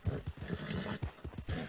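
Horse hooves in the video game Red Dead Redemption 2 clip-clop in a steady, rapid rhythm, moderately close, with a faint background wash and almost no talk.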